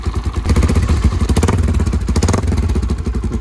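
A Hyosung Karion RT 125 motorcycle engine with a small aftermarket silencer runs loud and close, its exhaust pulsing in a rapid, steady thumping beat with a raspy, clattery edge.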